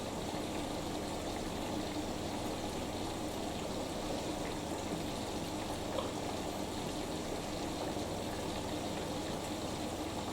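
A Fisher & Paykel WD8060P1 washer dryer fills with water during a towels 90ºC cycle, a faint, steady rushing trickle that continues without break.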